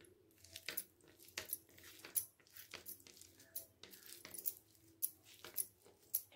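Hands knead mashed potatoes with cumin, garam masala, salt and coriander, giving soft, close squishing and slapping sounds in an uneven, repeated rhythm, quiet with no talk.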